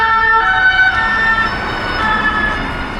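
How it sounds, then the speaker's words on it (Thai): A police car siren wails steadily as it passes along a street near a museum, loud and close for the whole stretch with the rising and falling tones of the siren over traffic noise. "รถตำรวจ"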